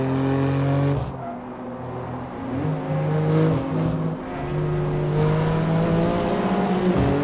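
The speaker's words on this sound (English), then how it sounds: "Yeah, this car sounds good too." A BMW M4 G82 Competition in Assetto Corsa on the Nordschleife track sounds a loud, sustained engine drone, rising and falling through revs and gear changes, with brief dips in between.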